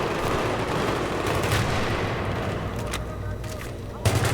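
Battlefield 3 multiplayer gunfire, including sniper fire, heard as a dense, continuous wash of shots and battle noise with one sharp louder burst near the end.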